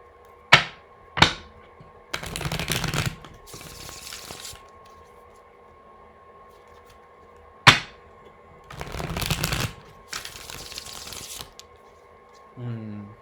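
Tarot cards are riffled and bridged in several bursts, crisp fluttering shuffles separated by pauses and a few sharp taps, close to the listener.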